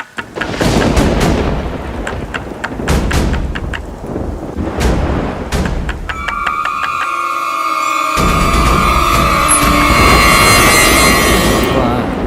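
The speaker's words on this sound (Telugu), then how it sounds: "బయట మంచి వర్షమా విపరీతమైన వర్షం" A thunderstorm with heavy rain: loud thunder claps and rumbles crash over a constant roar of downpour, building to a steady wash of rain with a tonal ringing near the end.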